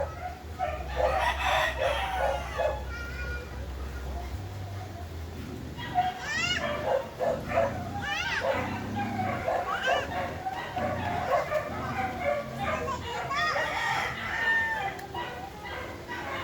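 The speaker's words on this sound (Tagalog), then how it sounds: "maririnig nyo po, nagkakagulo na yung mga aso" Several dogs at feeding time bark and yelp excitedly in a close, continuous commotion, with roosters crowing and clucking nearby throughout.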